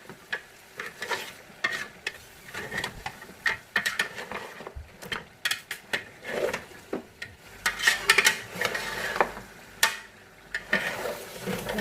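Mutton paya masala fries with chopped coriander and green chili in a pan, a low sizzle beneath steady irregular stirring and scraping strokes close by, with no talk.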